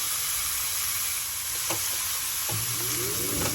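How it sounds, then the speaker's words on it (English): Beef shanks sear in a hot pan, giving a loud, close, continuous sizzle and hiss, with a couple of brief knocks and scrapes as the meat is turned. "Turn over these shanks. There we go, and let them cook on that side now."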